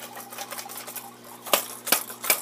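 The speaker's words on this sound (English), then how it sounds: "this blade comes back and hits the prop" Topwater fishing lure whose metal blade knocks against its propeller, a few sharp clicks in a loose rhythm over a faint mechanical whirr, close and alone.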